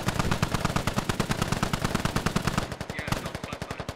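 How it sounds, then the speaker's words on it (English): A machine gun rattles in a military video game firefight, a continuous rapid stream of loud close bursts with evenly spaced shots, faint voices occasionally beneath the fire. "You don't want to have a firefight with an MG like this."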